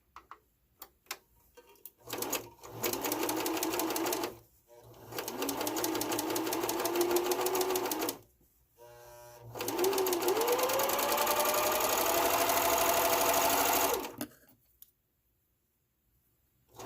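A sewing machine stitches back over a missed corner of a fabric stand mixer cover, running in three steady whirring bursts of several seconds each, separated by brief pauses, close and loud.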